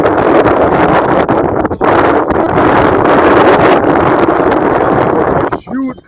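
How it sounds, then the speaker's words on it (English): A strong gust of wind buffets the microphone at an outdoor ultimate disc match, a loud continuous roar of rumbling wind noise that drops off briefly near the end. "huge gust of wind that immediately turned over Pooja's disc"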